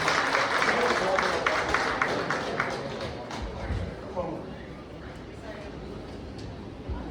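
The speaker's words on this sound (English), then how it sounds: "Please give him a big round of applause" Audience applause fills the hall at an awards gala, a dense wash of many hands clapping that fades gradually, with people talking over it.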